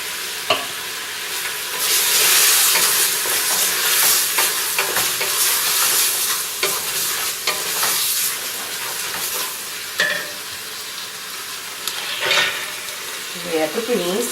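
Beans and bay leaves fry in a hot pan for a feijoada, a loud continuous sizzle and hiss with bursts of stirring and scraping, strongest early and easing toward the end.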